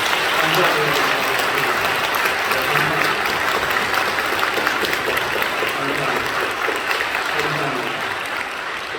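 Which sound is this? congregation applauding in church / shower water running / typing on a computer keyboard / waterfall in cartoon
congregation applauding in church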